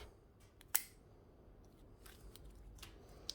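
Cutters prune a branch on a large carved olive bonsai, with one crisp, close snip followed by faint handling noise and a small click near the end.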